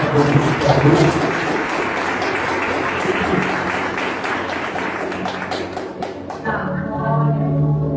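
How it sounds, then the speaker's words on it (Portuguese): Congregation applauding during a church service, a dense steady wash of clapping through most of the stretch that thins near the end as a voice begins over it. "Aplauda o Senhor Jesus por essa palavra."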